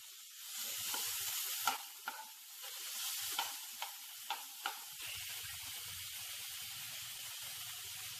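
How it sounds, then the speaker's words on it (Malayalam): Chopped tomato, garlic, ginger and chilli get stirred in a hot pan: a hissing sizzle with a run of sharp spatula taps and scrapes, then the frying settles into a steadier, quieter hiss. "മിക്സ് ചെയ്തെടുക്കാം"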